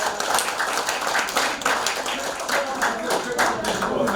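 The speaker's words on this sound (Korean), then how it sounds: "1년 동안 한 번도 빠지지 않고 개근하신 이분들을 위해서 박수 한번." An indoor audience at a Korean association's academy lecture gives a burst of steady clapping for members with perfect attendance, heard close and moderately loud with talk mixed in.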